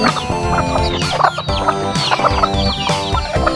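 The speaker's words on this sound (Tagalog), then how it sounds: "Yan mga chicken." Chickens cluck in short, repeated bursts close by, over a steady tonal background that continues throughout.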